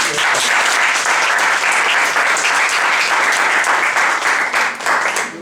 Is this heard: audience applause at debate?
yes